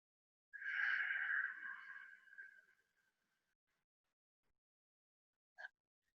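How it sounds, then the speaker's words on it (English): A long audible yoga exhalation through a softly constricted throat, ujjayi breath, rushing and hissing for about two seconds before fading into silence, followed by a brief faint breath near the end. "softly constrict the back of your throat, the glottis, slightly, to make the breath audible on your exhalation"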